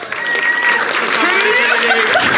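An audience at an exhibit soft launch event applauds a team, sustained clapping filling the room at steady loudness for a couple of seconds, with a few cheers or voices mixed in.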